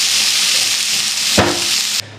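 Vegetables stir-frying in a flaming hot pan for fried rice: a steady bright sizzle fills the clip, with a brief scraping stir partway through before the hiss cuts out near the end.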